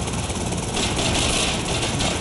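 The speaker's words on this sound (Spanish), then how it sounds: "ahora un maldito helicóptero, ¿verdad?" A helicopter in the video game GTA Liberty City Stories gives off a loud, steady, close rotor and engine roar that fills the whole moment with no break.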